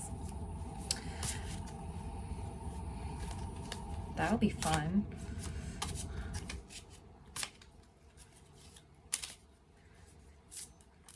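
Brief riffling and flicking of tarot cards being shuffled over a low background hum, with a short spoken remark near the end.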